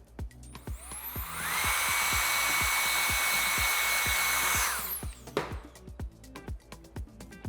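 A handheld hair dryer blow-drying hair, its loud whooshing whine swelling up, holding steady for a few seconds and cutting off, with brush strokes and soft handling clicks before and after.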